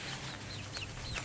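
Chickens clucking softly in a coop, a few short, faint calls scattered over a steady low background noise.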